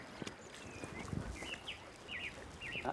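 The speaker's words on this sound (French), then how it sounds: "ça c'est une grive musicienne" A song thrush sings by a river, its faint, clear whistled phrases repeating at a distance over a soft background of flowing water and light knocks.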